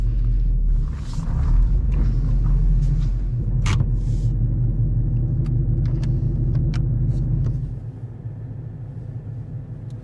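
A car fitted with a Calimer stage 3 clutch gives a low, steady rumble with a faint rubbing drone from the driveline, close and continuous, easing to a quieter hum near the end.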